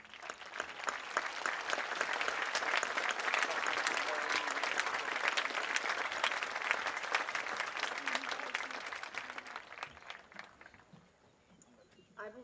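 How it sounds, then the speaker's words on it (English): A large audience at a high school graduation ceremony breaks into sustained applause that swells and then fades toward the end, with some crowd noise mixed in. "could you please stand for a round of applause?"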